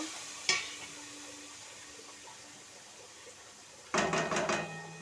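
Tomatoes stirred in a hot, oil-free kadai with cumin already added: a sharp clink of the spatula early on, a quiet stretch, then a loud burst of sizzling and scraping toward the end.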